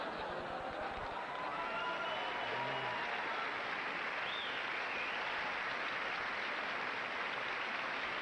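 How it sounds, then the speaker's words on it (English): Faint, steady applause from a stand-up comedy audience, a soft even patter of many hands that hangs back at a distance and never swells. "Thanks for applauding."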